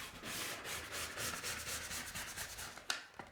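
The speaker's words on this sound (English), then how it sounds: "put a gentle bit of sanding on there, just on that edge" Light hand sanding on the edge of a timber door before varnishing, soft rhythmic rasping strokes repeating quickly and close by, quiet, ending with a couple of small knocks.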